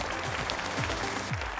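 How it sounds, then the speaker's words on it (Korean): Studio audience applause on a televised student quiz show, a short, continuous burst of clapping heard under a low hum, sustained evenly through the brief moment. "일단 박수 한번 주시죠."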